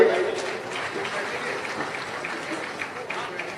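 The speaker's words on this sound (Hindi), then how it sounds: "आइए एक बार तालियां बजाइए" Audience at a comedy poetry gathering in Indore clapping in a steady wash, broad and fairly loud, mixed with crowd murmur throughout the few seconds.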